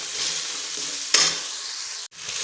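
Tomatoes frying in a pan with a steady broadband sizzle, briefly brightening with a stir midway before a short break near the end, with no talking.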